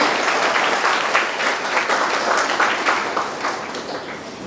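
Loud, close audience applause for a poet at a Hindi poetry event, a dense burst of many hands clapping that holds steady for a few seconds without speech.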